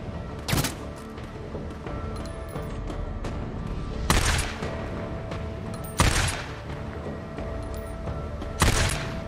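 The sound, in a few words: unsilenced gunfire in the video game Days Gone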